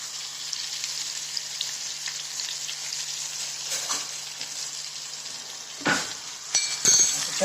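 Brinjal frying in a pan with garlic and onion, a steady close sizzle throughout, with scraping and clinking bursts near the end as the vegetables are stirred.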